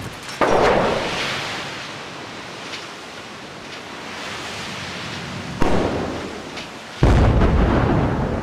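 Heavy explosions go off in Killzone 3 during a search-and-destroy match as a target is blown up. Several deep, rumbling booms arrive at intervals, each trailing into a long roar.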